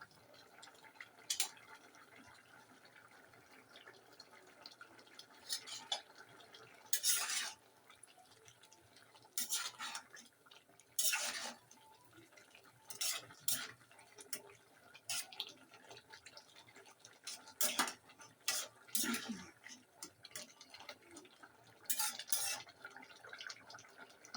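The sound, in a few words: stirring and sautéing curry in a pot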